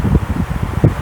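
A household electric fan whirs close to a Ulanzi J12 microphone, a loud, fluttering rumble with uneven low buffeting pulses across the whole short stretch.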